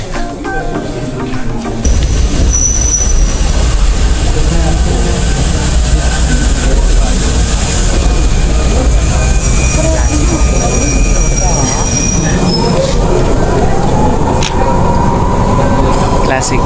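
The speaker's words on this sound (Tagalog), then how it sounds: "Classic train." A train on the Tateyama Kurobe Alpine Route rumbles loudly and steadily from inside, with wheel and engine drone building after a quieter start and people talking over it.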